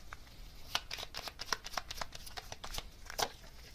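Tarot cards are shuffled and drawn in a quiet room, giving a steady run of soft riffling flicks and sharp card snaps close by, with a few louder slaps as cards come off the deck.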